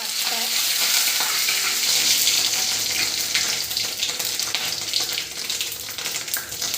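Whole spices such as cardamom, poppy seeds and cinnamon frying in hot oil, a loud close crackling sizzle with stirring scrapes, steady and then slowly easing.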